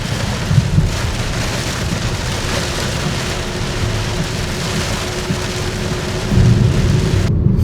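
Steady heavy rain pouring down, a continuous dense hiss with a low rumble beneath, growing slightly louder toward the end.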